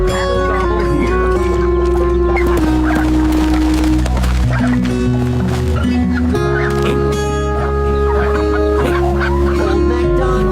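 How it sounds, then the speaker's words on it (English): Turkeys gobble on a farm as part of a bright nursery-rhyme song, with steady sung melody and instruments running underneath the whole time. "And on this farm, he had some turkeys."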